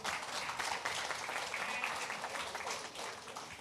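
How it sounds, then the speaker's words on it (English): A crowd at a pension programme launch for retired general auxiliary employees applauds the Prime Minister, a continuous, fairly faint wash of many hands clapping at an even level throughout. "we must give some applaud to our Prime Minister"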